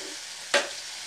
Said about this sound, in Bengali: মানে ছড়িয়ে ছড়িয়ে দিয়ে এটা ভাজবো